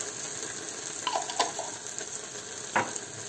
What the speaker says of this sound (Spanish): vamos a rehogarlo. ¿Veis? Lo rehogamos bien, mezclamos.